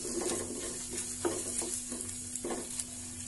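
Chopped green chillies and lentils roasting in a pan sizzle steadily while a spoon scrapes and stirs in short, irregular strokes, close and alone, for upma preparation.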